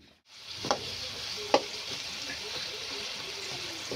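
Food frying in oil with salt makes a steady, close hiss, with a couple of sharp stirring clicks early on and the sizzle continuing evenly.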